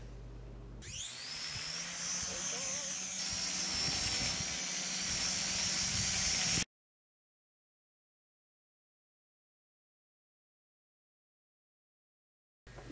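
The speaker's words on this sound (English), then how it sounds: "This is the Sky Viper Journey Pro Video Drone." A Sky Viper Journey Pro video drone flies with a steady, high-pitched buzzing whine from its propellers. It runs loud and continuous for about six seconds, then cuts to silence.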